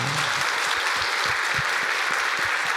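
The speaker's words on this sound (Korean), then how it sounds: "우리 오늘도 감사합니다 마음을 담고 크게 박수 한번 하면 좋겠습니다." A church congregation bursts into loud, sustained applause at a New Year thanksgiving Sunday service, a dense wash of many hands clapping steadily throughout with no gaps.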